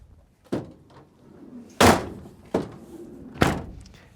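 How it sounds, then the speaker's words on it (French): Doors on a Renault Trafic van are shut one after another: four heavy metallic slams spaced roughly a second apart, the second one loudest, with quiet rustling between them. "on ferme les portes"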